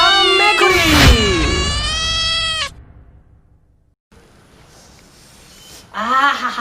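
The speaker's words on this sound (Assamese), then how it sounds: "মেকুৰী" A cat meows loudly in long drawn-out wails up close, then falls quiet before one more short meow at the end.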